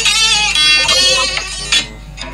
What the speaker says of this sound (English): This is the sound of my farm.